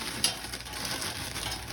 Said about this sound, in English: now I'm going to throw in the veggies